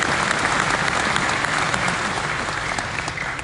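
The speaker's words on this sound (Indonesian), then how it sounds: "Tepuk tangan buat saudara semua." Dense, loud applause from a large crowd at a religious tabligh gathering in Korea, sustained evenly across the whole stretch with no speech over it.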